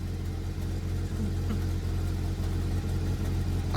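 A rough-running Honda Civic engine, missing on a cylinder now and then, drones steadily and loudly from close by, a continuous uneven idle with no talk over it.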